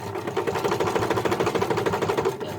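A sewing machine stitches piping cord onto a cushion cover, giving a steady, rapid mechanical chatter that runs without a break, close and fairly loud.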